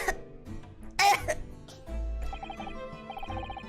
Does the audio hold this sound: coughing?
yes